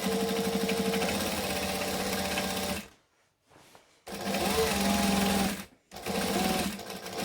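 A sewing machine stitches fabric for a reversible ironing board cover, humming steadily and loudly up close in two long runs and a shorter one, separated by brief stops with faint handling noise.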